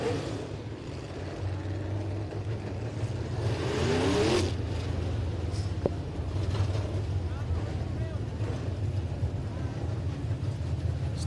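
Race cars roar through a heat race at Rockcastle Speedway, their engines a continuous loud drone with rising and falling passes, while an announcer talks over the noise.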